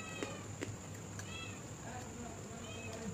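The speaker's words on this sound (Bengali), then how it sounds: "দুটো বিড়াল এসে হাজির হয়েছে।" Two cats meow a few times in short, rising cries, fairly faint against a quiet background hiss, while a person speaks softly nearby.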